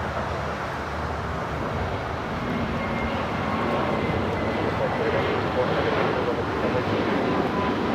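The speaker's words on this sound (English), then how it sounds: "It's that Turkish 777 in the special livery." A Turkish Airlines Boeing 777 jet in special livery at Los Angeles International Airport gives off a steady, broad engine roar that holds loud and even throughout, with a voice talking over it.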